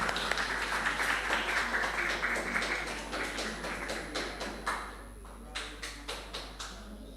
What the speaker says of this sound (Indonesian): kita kasih aplaus sekali lagi untuk Karen